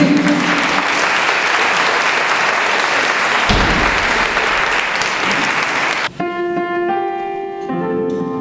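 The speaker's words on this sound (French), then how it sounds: "Vous pouvez les applaudir très fort" An audience claps loudly and continuously for the children's choir Les Petits Voiliers of the école Notre-Dame d'Agde at a Christmas singing event, then the applause stops abruptly and sustained musical tones begin.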